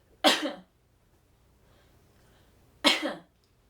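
Two separate coughs, each a short sharp burst, with a quiet pause of a couple of seconds between them; no talking.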